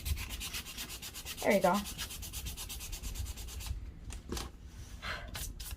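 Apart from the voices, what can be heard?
sanding stain off a wooden cutting board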